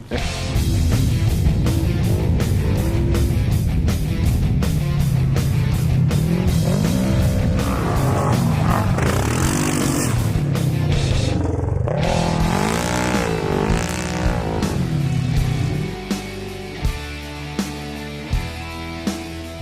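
A Yamaha Grizzly ATV engine revs hard and continuously on a test ride, its pitch rising and falling through repeated throttle surges, loud and close, before easing into a few sharp blips near the end.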